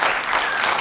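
Talk show studio audience breaking into a big round of applause, a dense loud burst of clapping filling the whole short moment.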